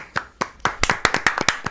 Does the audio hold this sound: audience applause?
yes